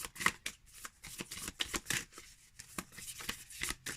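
Oracle deck cards being riffle shuffled up close, a quick flurry of crisp flicking and snapping bursts repeating in short rhythmic runs.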